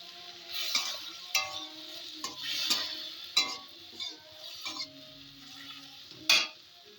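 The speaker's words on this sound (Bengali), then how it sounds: "এবার সর্ষে বাটার জলটা দিয়ে অল্প করে দিয়ে আমি এটাকে একটু কষিয়ে নিই।" Fish being stir-fried with mustard paste water in a pan: a soft, low sizzle under repeated sharp scrapes and knocks of a spatula against the pan, several distinct strokes spaced irregularly.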